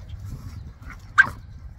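A Rottweiler puppy gives a brief whimpering yelp near the middle, a single short cry over low rumbling background noise.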